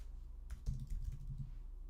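Rapid typing on a computer keyboard, a quick run of soft clicks over about a second, fairly quiet against a low background hum.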